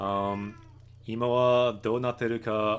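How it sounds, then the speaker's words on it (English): A house cat meows in a few drawn-out, close cries, nearly filling a short moment with a person's talk alongside. "You might hear some meowing for a while."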